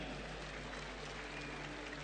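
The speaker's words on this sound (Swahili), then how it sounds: "Tuwape makofi marubani wetu tafadhali." Distant, faint applause from an outdoor crowd cheering air force pilots flying overhead, a steady diffuse patter under a constant low hum.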